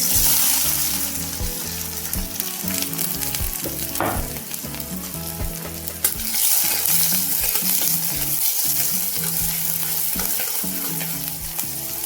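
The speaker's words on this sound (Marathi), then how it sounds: "गरम झालेला आहे त्याच्यामध्ये जिरी व कांदा टाकून घेऊया।" Cumin seeds and chopped onion fry in hot oil for a kurvad bhaji, a loud continuous close sizzle with scraping stirs throughout and no talking.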